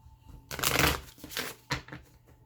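Green Witch tarot cards being shuffled close up, with two or three quick riffling bursts and soft slaps between them and no talking.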